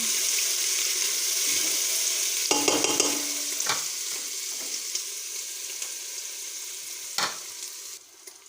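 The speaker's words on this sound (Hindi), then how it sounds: "अदरक लहसुन को हम 2 से 3 मिनट फ्राई करेंगे।" Ginger garlic paste sizzles steadily in a hot pan while a utensil stirs and scrapes a few times, close and moderately loud.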